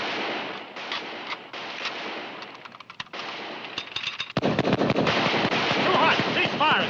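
Gunfire in a Western battle scene, bursts of rapid shots and sharp cracks over wind noise, growing louder and denser toward the end.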